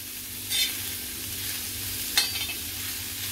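Cauliflower being stirred with tempering on a tawa: a continuous close sizzle with two distinct scraping strokes of a spatula against the hot pan.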